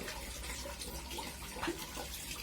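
Water runs from a tap into a container, a faint, soft steady trickle with small splashing accents and nothing else prominent.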